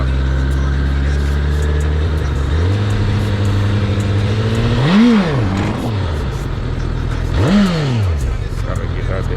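A liter-bike motorcycle engine idling, then revving hard twice during wheelie attempts, each rev rising and falling in pitch close to the rider, with someone talking over the steady engine rumble.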